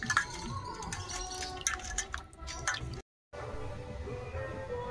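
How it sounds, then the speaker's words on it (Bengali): Peeled potatoes rinsed clean under running water in a home kitchen, with dripping and splashing that stops abruptly for a moment and then resumes at a steady close level. "দেখুন আলুর আমি খোসা ছাড়িয়ে নিয়েছি, এবার পরিষ্কার করে ধুয়ে নিই।"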